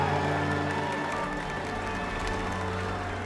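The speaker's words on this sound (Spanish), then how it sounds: "El público le aplaude ante la algarabía de los presentes." A crowd applauds and cheers steadily under a sustained musical tone, with the clapping dense and continuous throughout.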